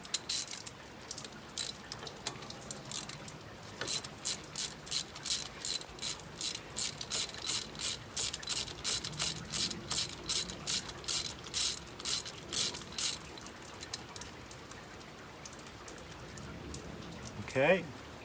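A ratchet fitted with a 3-inch extension works on an ABS sensor on a car, giving a long run of rapid, evenly spaced metallic clicks, close and fairly quiet, before a brief pause.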